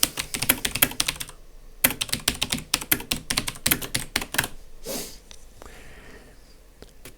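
Clicky mechanical keyboard typed on in quick bursts, with a brief pause and a sniff-like breath before fainter keystrokes trail off; close and fairly loud, no speech.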